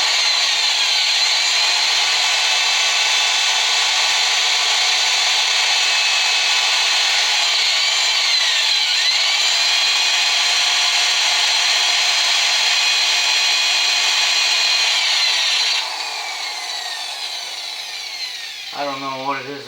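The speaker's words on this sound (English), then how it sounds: "I don't know what it is about me and drilling holes in Volkswagen transmissions" A power drill with a dull bit bores into a 1966 Volkswagen transmission case, giving a loud, steady, high whining grind that holds for about fifteen seconds before it eases and winds down.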